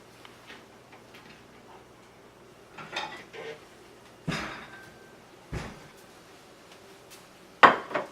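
Getting a plate out in a kitchen brings a few sharp clinks and knocks of crockery and cupboard, separated by quiet gaps, with soft ticking in between.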